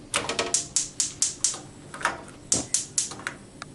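Gas stove burners being lit in a home kitchen give a fast run of sharp, evenly spaced igniter clicks, about four per second, close and clear, with brief pauses between bursts and no voices.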